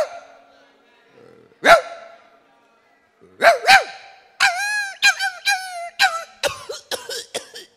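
A man in a Vietnamese comedy skit imitates a dog barking with his voice: a couple of isolated yelps, then a quick run of hoarse, close barks growing denser toward the end.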